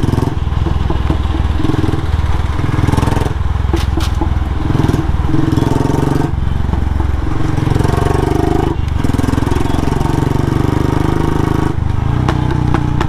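Royal Enfield Bullet motorcycle running nearby with a thumping idle, punctuated by several sharp exhaust backfire pops and cracks spread across the stretch, loud and without speech.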